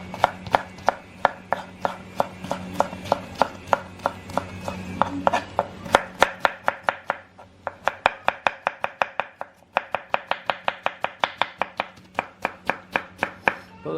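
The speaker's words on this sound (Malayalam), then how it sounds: "എന്നിട്ട് നമുക്ക് പയ്യെ ഒന്ന് സ്ലൈസ് ചെയ്തെടുക്കണം. വളരെ തിന്നായിട്ട് കട്ട് ചെയ്താൽ മതി." A knife slices pork thinly on a cutting board for vindaloo, producing quick, crisp, regular taps close up, dozens in a steady rhythm with a couple of brief pauses.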